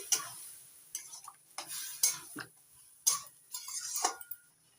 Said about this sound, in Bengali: তরকার ডাল পুরোটা ঢেলে দিচ্ছি ভালো করে মিশিয়ে নিচ্ছি